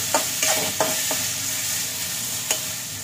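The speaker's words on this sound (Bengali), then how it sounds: "এবার একটু ভাজা ভাজা করবো, যতটা ভাজবে ভাত ততটা ভালো হবে।" Drained basanti pulao rice being fried and stirred in a pan, a steady sizzle broken by several sharp spatula scrapes and clicks, close and fairly loud, no talking.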